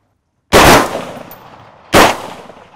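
Two loud gunshots at outdoor exploding targets, each a sharp blast with a long trailing rumble, about 1.4 seconds apart.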